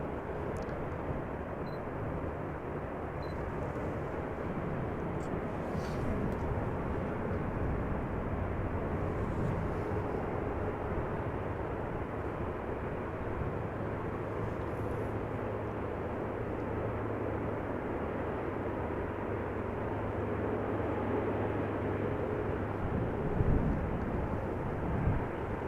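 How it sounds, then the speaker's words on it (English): Airbus A350 airliner at Amsterdam Schiphol Airport, bound for Singapore from runway 24, gives a steady, loud broadband jet roar that holds evenly throughout with no talk. "Now, this A350 will be going to Singapore from runway 24."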